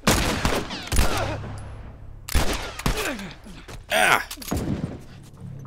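Gunfire in the video game The Last of Us: several sharp shots and ricochets come in bursts under tense game sounds, with a player's brief exclamation in between.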